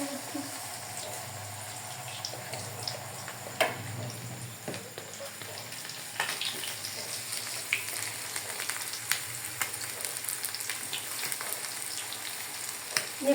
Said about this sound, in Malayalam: അപ്പോൾ നമ്മൾ ഇതെടുത്തിനി എണ്ണയിലോട്ടിടുകയാണ്. ഓരോന്ന് നമ്മൾ ഫ്രൈ ചെയ്തെടുക്കാം.